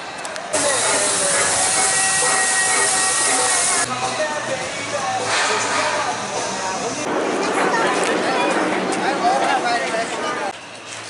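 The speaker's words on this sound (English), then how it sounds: "So the train is running" A train runs at Six Flags St. Louis amusement park, giving a steady broad hiss and rumble with steam-like bursts that stay loud for several seconds.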